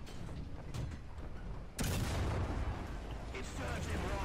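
Tank cannon fire from an M10 GMC in the online game War Thunder, a sudden loud blast with a rumbling tail after a stretch of quieter mechanical battle noise, with a person talking under it.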